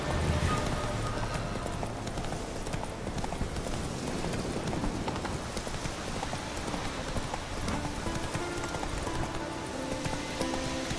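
Roach, the horse in The Witcher 3, galloping with hooves pounding in a fast, steady clip-clop rhythm, loud and continuous alongside game ambience and occasional faint voice.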